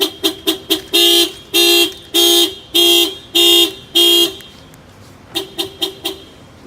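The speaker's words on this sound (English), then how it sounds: "The alarm will fire off." A 2018 Toyota RAV4's aftermarket alarm blares close and loud: quick chirps, then several long rhythmic horn blasts, a pause, and another run of short chirps.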